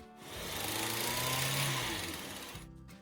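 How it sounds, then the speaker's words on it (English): A running car engine with a rough, buzzing mechanical drone that swells and then fades over a few seconds, close and loud, apparently running poorly. "a little engine noise is normal"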